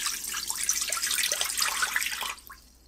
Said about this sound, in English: Pour in 1 cup of chicken broth.